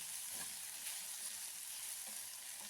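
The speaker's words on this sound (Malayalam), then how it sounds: "ഇത് നല്ല പോലെ ഒന്ന് വറുത്തെടുക്കണം" Steady sizzling of okra frying in hot coconut oil, a constant bright hiss with faint stirring scrapes, close and continuous.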